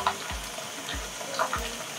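Pala fish frying in hot oil in a home kitchen, a soft continuous sizzle broken by three low thumps spaced about every half-second, close and fairly quiet with no talk.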